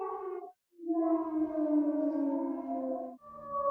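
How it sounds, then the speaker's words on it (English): A siren wails in long, rising and falling harmonic tones, loud and sustained with a brief gap near the start. "Sirens are blaring in the streets."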